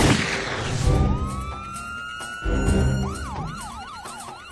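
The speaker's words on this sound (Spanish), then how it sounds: "Una ambulancia traslada de urgencia a Buchanan al hospital del condado de Montgo" A loud ambulance siren rises into a long wail, then switches to a fast warbling yelp as the ambulance passes close amid traffic noise.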